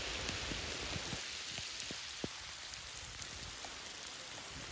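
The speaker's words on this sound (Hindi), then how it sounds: "बारिश आहिस्ता आहिस्ता अच्छी बड़ी तेज़ हो गई है" Heavy rain falls in a village rice-growing area with a dense, continuous hiss, scattered drops tapping nearby surfaces; no voices.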